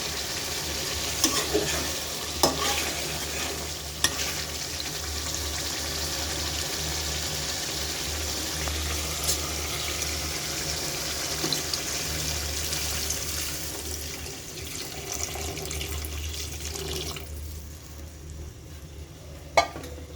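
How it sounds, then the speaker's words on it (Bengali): Beef cooking in oil and spices, with broth poured in, gives a steady hiss and bubbling broken by a few stirring knocks, quieting toward the end. "এখন আমি ঝোল দিয়ে দেব মাংসতে।"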